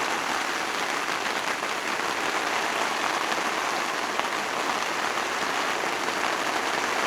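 Rain pours steadily onto the fly sheet of a new tent pitched in Cumbria, a dense, even patter that fills the space without a break and with no voices.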